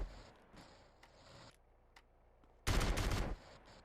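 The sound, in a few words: shotgun firing in GTA San Andreas video game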